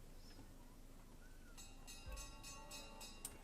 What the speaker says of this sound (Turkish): O zili çal dedi. Hemen zilimizi çalalım abi.